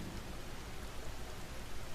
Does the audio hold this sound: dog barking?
no